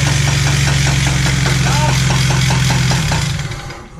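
Honda Civic race car engine running close and loud with a fast, rhythmic mechanical knock, then dying down and fading out near the end.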